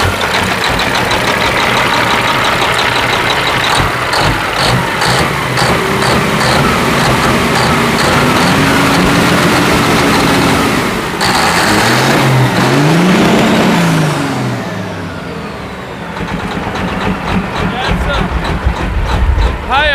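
A truck's diesel engine cranks, fires up and revs hard, rising and falling in pitch up close, then settles toward a rougher idle; loud throughout.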